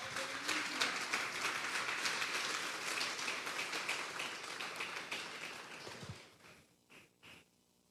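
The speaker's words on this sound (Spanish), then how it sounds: "Denle un fuerte aplauso pues al Señor" A church congregation at a Bible doctrine service claps for the Lord, a full, sustained round of applause that fades over the last two seconds into a few scattered claps.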